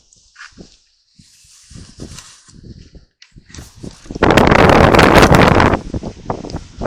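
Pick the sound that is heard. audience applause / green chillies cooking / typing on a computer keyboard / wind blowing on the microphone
wind blowing on the microphone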